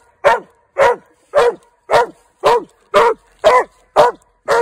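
A hound dog barks nine times in a steady, even rhythm, each bark loud, close and clearly separated by short pauses, with no talking over it.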